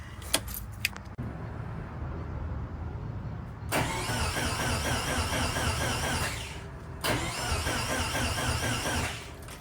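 A 500 HP Subaru STI build, just fixed after a fuel pump fault, gives a few faint clicks, then cranks and catches into a loud, steady run. It cuts out briefly and fires up again.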